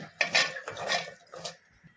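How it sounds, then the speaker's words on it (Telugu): Ivy gourd is stirred with salt and turmeric in a pan, giving three quick scraping, clinking strokes of a utensil against metal, close and fairly faint, with no talking. "కొద్దిగా సాల్ట్, కొద్దిగా పసుపు వేసుకొని కలుపుకోవాలి"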